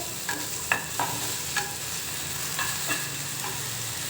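Tomatoes and green chillies frying in a pan for chutney sizzle steadily up close, with repeated light scrapes and taps of a spoon stirring them, and no voices.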